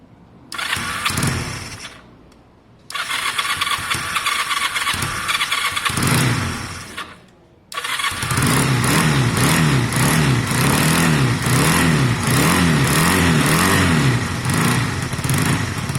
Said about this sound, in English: give it a rev, see how it's going.